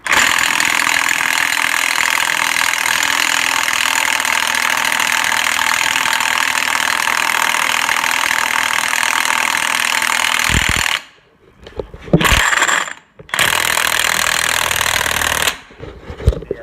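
Rapid, loud impact-wrench hammering with a large 1 7/16 socket on a big axle nut during a CV shaft and wheel bearing job, steady for about eleven seconds, then stopping and restarting in short bursts.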